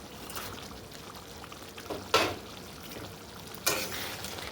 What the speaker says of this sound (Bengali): তারপর পনিরগুলো সব দিয়ে দিচ্ছি।